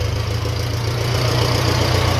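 A 1957 Ferguson FE35 TVO tractor engine runs with a loud, steady, low drone close up, holding an even note throughout.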